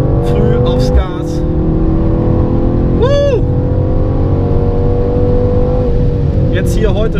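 A 2019 Mercedes-AMG C63 S coupé drives hard on the Bilster Berg race track, its engine droning loud and steady inside the cabin with a brief shift blip, while someone talks over it.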